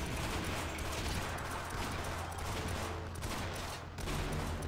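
Gunfire in the Sven Co-op shooter game rattles as a loud, dense, nonstop volley of rapid shots filling the whole moment.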